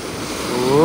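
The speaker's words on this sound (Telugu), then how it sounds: "ఇంత పెద్ద పెద్ద అలలు వస్తున్నాయి సముద్రంలో" Large ocean waves roll in on the shore at Casablanca, Morocco, in a loud, close, continuous roar that swells toward the end, with wind buffeting the microphone.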